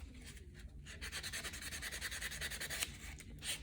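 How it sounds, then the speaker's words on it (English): Soft, quiet rubbing of a buffer block over an acrylic press-on nail tip, a steady rhythmic back-and-forth scratching close up for a few seconds. "I get a buffer block, just go all over it like this with my buffer block"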